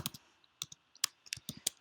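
Text is typed on a computer keyboard in quiet, close clicks, landing in quick irregular bursts of single keystrokes.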